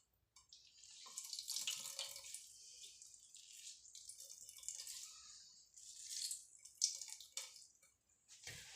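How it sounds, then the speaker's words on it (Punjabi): Radishes are lifted out of a bowl of water in a home kitchen, giving soft drips, splashes and light rattling that come and go in several bursts, close and faint, with no talking. "ਲਓ ਜੀ ਮੂਲੀਆਂ ਆਪਾਂ ਨੇ ਕੱਢਤੀਆਂ ਪਾਣੀ ਦੇ ਵਿੱਚੋਂ ਦੇਖੋ"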